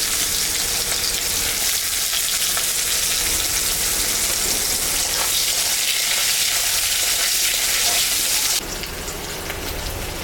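Chopped onions hit hot oil that already holds dried red chillies, bay leaves and cumin after frying fish, producing a loud, dense, steady sizzle that drops abruptly near the end.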